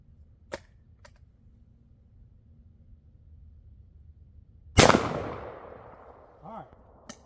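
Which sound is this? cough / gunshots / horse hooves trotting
gunshots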